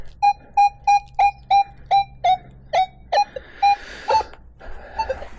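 OMMO MD-7011 budget metal detector signalling a quarter buried in dirt, giving about a dozen crisp, evenly spaced beeps close up, followed by a few softer, irregular tones.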